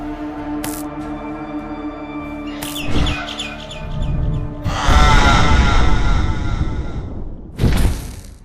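A bird creature diving in the Garten of Banban 6 video game, with game sounds: sharp thuds near the one-second and three-second marks, a louder rushing burst from about five to seven seconds, then a final hit.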